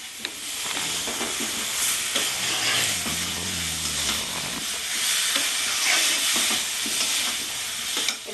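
Potatoes frying in a pan for a chicken dish cooked with almost no oil, giving a loud, continuous close sizzle and hiss with occasional stirring scrapes.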